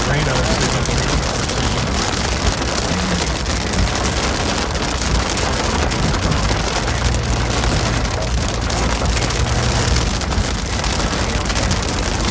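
Heavy storm rain hammers a moving car on a drive through St. Charles County, a loud, dense, unbroken roar of rain and road noise that fills the whole stretch.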